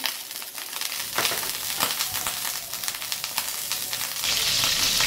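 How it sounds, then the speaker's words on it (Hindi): Finely chopped garlic sizzles and spatters in hot butter, a dense crackling fry with occasional stirring scrapes, the sizzle swelling louder toward the end. "थोड़ा सा जैसे ये फ्राई होना शुरू हो जाएगा हमारा लहसुन"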